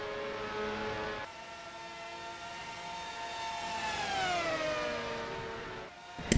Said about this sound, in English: they're pretty noisy, aren't they, these Formula 1 cars?